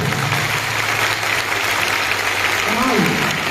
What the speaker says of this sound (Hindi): महाराज, एक बार इनके लिए ताली बजाएं सबसे पहले